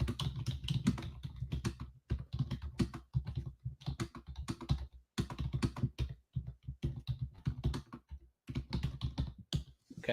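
Fast, uneven typing on a computer keyboard during a WebEx session, with dense clusters of close key clicks and a couple of brief pauses, with no voices.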